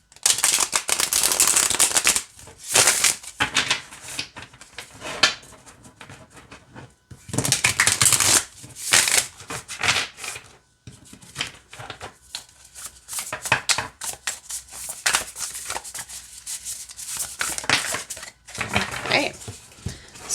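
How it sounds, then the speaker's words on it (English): Thick tarot-style cards riffle and slap in repeated bursts of shuffling, close by, with pauses between rounds. "we'll shuffle, we'll pull a card"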